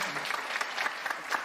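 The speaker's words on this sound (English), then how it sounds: "Listen to that. That applause right there." A crowd applauds in a continuous wash of many hands clapping, moderately loud and diffuse, heard alone for a brief moment.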